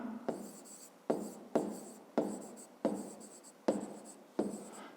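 A pen writes out a fifth-grade geometry solution on paper in a series of about seven short scratchy strokes, each starting sharply and fading, close and quiet with no talk.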